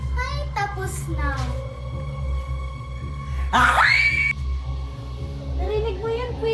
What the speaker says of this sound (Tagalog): May sumisigaw.